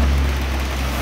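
Rain falls outdoors on a drizzly but brightening day, a steady dense hiss with a low rumble underneath, unbroken and fairly loud, with no voices.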